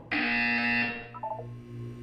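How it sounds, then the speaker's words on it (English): A sustained electronic buzzer sounds in the Portal 2 game, loud and steady for about a second, then cuts off and leaves a few fainter tonal blips over a low hum. "When you hear the buzzer, look down at the floor."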